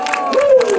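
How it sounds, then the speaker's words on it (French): A crowd at a firefighter demonstration applauds and cheers, a dense, loud burst of clapping with a rising voice-like whoop running through it. "On l'applaudit."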